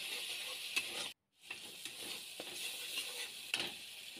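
Cashew paste fries and sizzles in a pan, a quiet steady hiss broken by a short silent gap and faint stirring scrapes and clicks.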